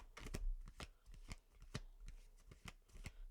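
Tarot cards shuffled by hand in a quick flutter of riffling snaps and soft slaps, close and quiet with no voice over it.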